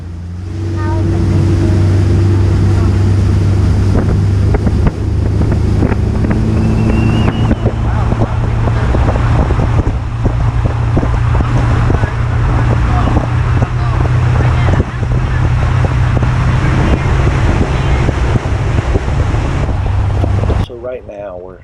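Continuous loud motorboat drone with wind buffeting the microphone as a boat cruises upriver on the James River toward Richmond, a steady hum running throughout.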